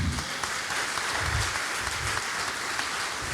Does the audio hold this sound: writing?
no